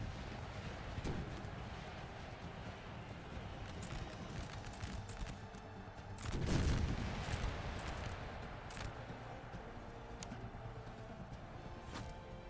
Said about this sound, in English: We'll toss some grenades.